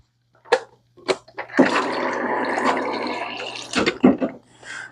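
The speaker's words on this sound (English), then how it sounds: "I actually forgot to get some water, so give me 1 second while I fill up" Water runs from a kitchen tap into a container for cocktail making, a steady gush of a few seconds framed by clunks and taps of handling before and after.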